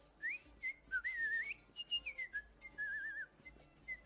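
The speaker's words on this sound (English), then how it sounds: "you hear some whistling from an" A person whistles a wandering, quiet melody from somewhere out of sight inside a small shop, phrases rising and falling with brief gaps between them.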